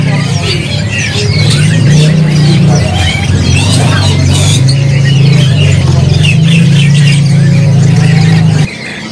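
A caged kenari loper canary sings loud and close in bursts of squawky chirps and trills over a steady low hum, and the song stops abruptly near the end.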